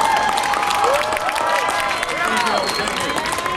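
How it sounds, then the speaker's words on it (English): A crowd at a charter school rally applauds the band with loud, continuous clapping, and voices and shouts carry over the top of the claps. "Give the band another round of applause because they are absolutely wonderful."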